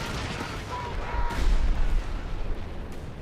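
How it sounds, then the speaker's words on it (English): A rapid-fire artillery barrage rumbles through a Company of Heroes 3 tournament match: dense, continuous booms and blasts in a loud, rolling wall of battle noise with no talk. "rapid fire artillery barrage"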